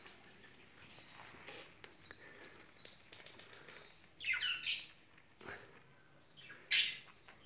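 Australian budgerigars nesting inside a nest box make soft scratchy chirps and shuffling, with two louder bursts of chatter near the end, close by and without talk.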